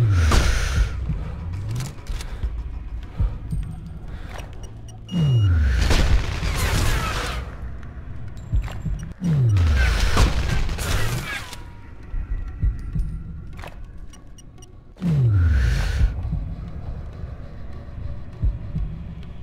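Heavy booming blasts of gunfire and explosions in the Sniper Ghost Warrior 2 video game, four big low rumbling bursts spaced several seconds apart, loud and close, with no talk over them.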